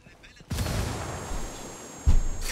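In the Ghost Recon Wildlands video game, a thrown grenade goes off with a sudden loud bang, then a rolling noisy tail. A second, sharper blast follows about a second and a half later, with a voice talking at the edges.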